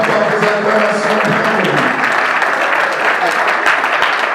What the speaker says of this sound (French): Pendant qu'il avance, mesdames et messieurs, on accompagne par des acclamations.